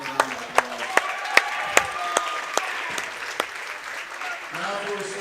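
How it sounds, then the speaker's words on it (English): An audience in a school gym claps for a choir soloist, a sparse, rhythmic round of applause with distinct individual claps, fading as a voice begins speaking over it. "Let's give him another round of applause."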